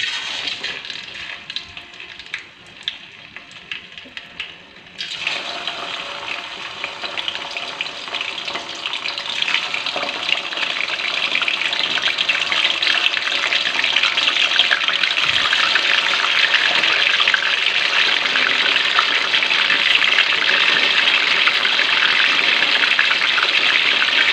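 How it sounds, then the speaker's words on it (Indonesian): Bacem chicken pieces dropped into hot oil: a quiet start, then a sudden strong, close frying sizzle that keeps building into a loud, steady crackling hiss with no talking. "sekarang kita langsung saja masukin ayamnya. Ini minyaknya udah panas."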